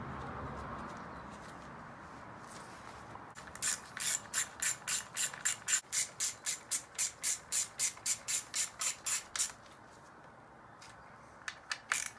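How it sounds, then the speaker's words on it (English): Ratchet wrench snugging two 8mm bolts on a 2021 Honda CRF250R motorcycle during an oil change, a fast even run of about twenty loud clicks after a quiet start, with a few more clicks near the end. "Get those two 8mm bolts nice and snug."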